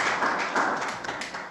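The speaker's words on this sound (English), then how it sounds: "Please give yourselves a round of applause for being here." An audience at a poetry event claps briefly, a close, dense burst of applause lasting under two seconds.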